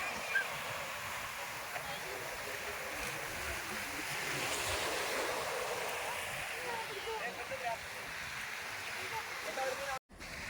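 Steady surf washes along a Lakshadweep lagoon beach, a soft continuous roar at a distance with a faint windy hiss and no distinct breaks.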